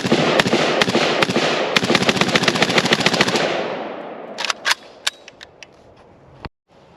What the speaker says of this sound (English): Let's do a little more shooting